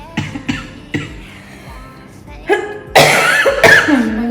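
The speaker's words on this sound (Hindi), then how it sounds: "आप पहले खांस लो।" A person coughs close by, starting with a few short, sharp coughs and ending with two louder, harsher bursts.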